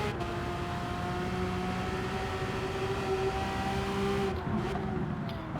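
Porsche 911 GT3 RS (992) in Gran Turismo 7 holds a steady, loud high-revving engine note on track with a sustained tone and no talk, easing off briefly near the end.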